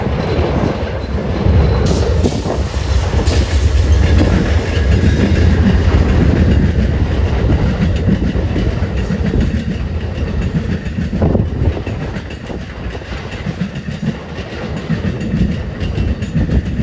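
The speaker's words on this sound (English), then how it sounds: "Next, we'd see Amtrak 8, leading by Grand Crossing with a pair of P-42s." Amtrak 8, a passenger train led by a pair of P-42 locomotives, rolls past Grand Crossing at La Crosse on a windy day. Loud, close clatter of wheels over rail joints continues steadily throughout, with some squeal and a rumbling underlayer.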